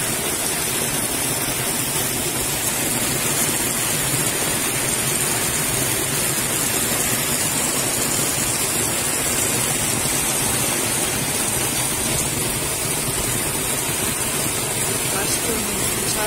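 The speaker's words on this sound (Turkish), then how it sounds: "Şu an bir yağmur yağıyor." Steady, dense rain hiss in a village fills the whole clip, constant and fairly loud, like a heavy downpour or rushing water with no pauses.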